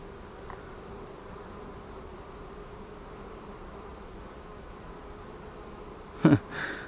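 Honey bees hum softly around a hive in mid-August as workers drive drones out, a faint steady buzz with a brief louder bump near the end.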